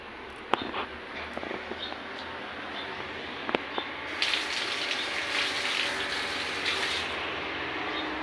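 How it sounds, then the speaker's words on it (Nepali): Heavy monsoon rain pours outside after hours of downpour, a dense, steady hiss that swells louder about halfway through, with a few sharp drips or taps near the start and no voices. "बाहिर पानी पानी भएको छ अहिलेसम्म पानी परिरहेको छ"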